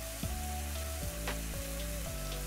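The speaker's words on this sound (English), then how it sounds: "Don't you love the sizzle of fresh garlic?" Steady hiss of fresh garlic frying in a hot pan, continuous and close, with a few light clinks and stirring scrapes over the sizzle.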